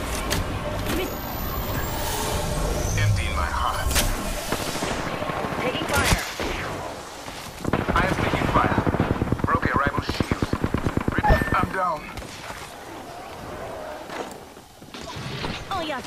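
Rapid automatic gunfire in Apex Legends ranked play, bursts of shots crackling over a busy battle mix with voice chat and game callouts talking throughout, dense rattling volleys strongest in the middle stretch.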